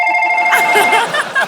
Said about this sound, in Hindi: मेरा फोन है। अच्छा अभी बजा है वो लोग।